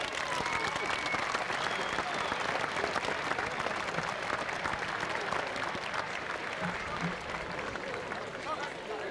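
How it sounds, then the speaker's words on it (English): Crowd at the 1993 Kilkenny Senior Hurling County Final giving a sustained round of applause in tribute to deceased players, steady dense clapping throughout with crowd murmur beneath. "I would like you all now to give them one last big round of applause,"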